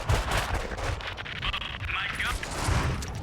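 Gunfire rings out in the Max Payne video game, a rapid scatter of sharp shots and booms layered over dense background sound and a speaking voice.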